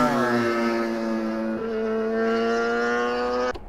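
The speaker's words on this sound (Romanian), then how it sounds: "Vedem acum că trebuie să treacă un motor." A motorcycle on a mountain road in the Bucegi Mountains near Piatra Arsă gives a loud, close, steady engine drone with a slight dip in pitch midway, cutting off abruptly near the end.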